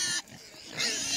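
Pastured pigs on a winter farm grunt and snuffle as they follow a feed bucket, a close, continuous jumble of grunts over rustling movement.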